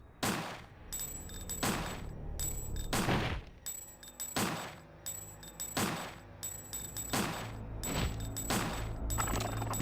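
Repeated handgun shots in the Dreamcast survival-horror game Dino Crisis, roughly ten sharp, loud reports in an irregular rhythm over a steady game backdrop, with no talking.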